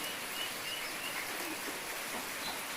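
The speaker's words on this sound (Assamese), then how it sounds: "তাৰপিছত বৰষুণ দি আছে মৰ্ণিঙতে।" Soft, even hiss of morning rain falling over waterlogged fields, faint and continuous, with a few light chirps faintly above it and no talking.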